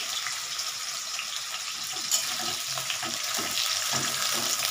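Onions and torn bay leaves frying in hot oil in a pan for vegetable rice, with a continuous loud hiss and sizzle and soft stirring thuds beneath, close.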